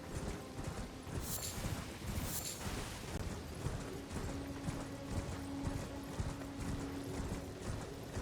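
Horse hooves in the Elden Ring video game, a steady galloping clip-clop rhythm that runs continuously at moderate volume under a dense game soundscape, with no talk over it.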